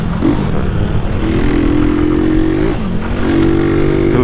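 A Yamaha MT-09 motorcycle engine revs and accelerates up close, its steady loud drone rising in pitch, dipping briefly and then climbing again over about four seconds.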